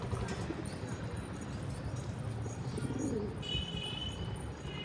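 A homing pigeon coos softly among other birds at a pigeon loft, faint calls over a low rumbling background, with a brighter birdlike chirp near the end.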